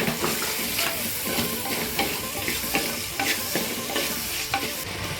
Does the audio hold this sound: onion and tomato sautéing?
yes